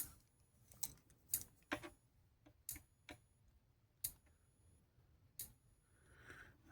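A 2009 electric fence charger, nearly 18 years old, ticking out sharp regular clicks about once a second, close and clear against a quiet background with no talk.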